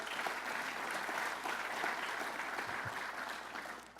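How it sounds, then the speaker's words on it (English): Applause from the audience at a political event, where the governor presented his 2015 opportunity agenda in Rockland County: an even wash of many hands clapping that holds steady for a few seconds and then begins to thin out and fade. "That's what Len Schleifer deserves a lot of applause"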